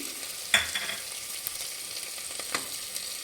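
Masala with green chillies and tomato for egg biryani fries with a steady, soft sizzle, while a spoon clinks against the pan a few times as it is stirred.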